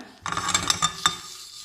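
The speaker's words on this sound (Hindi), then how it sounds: "ये मसाले जो ड्राई रोस्ट वाले हैं इनको हमने ड्राई रोस्ट कर लेना है।" Whole spices dry roasting in a pan for chicken angara, a few quick scrapes and clinks of a utensil against the pan over a dry rustle, close and fairly quiet, no voices.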